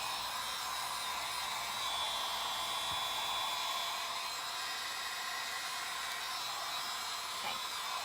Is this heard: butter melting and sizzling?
no